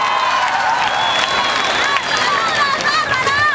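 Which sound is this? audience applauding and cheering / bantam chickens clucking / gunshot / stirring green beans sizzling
audience applauding and cheering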